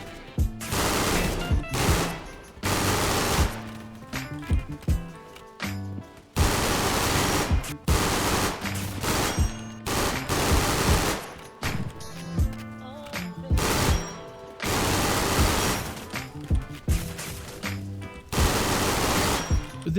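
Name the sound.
rapid DMR gunfire in a video game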